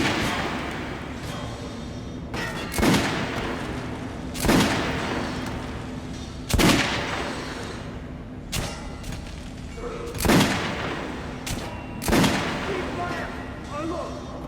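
Several sharp gunshots echo at target practice in the video game Metro: Last Light Redux, spaced a couple of seconds apart, against a low ambient background with occasional faint talk.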